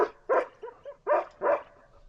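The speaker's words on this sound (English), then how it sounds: "See how the bark is different?" A reactive dog barks several times up close during e-collar training, short sharp woofs mixed with softer yips and whines, irregularly spaced.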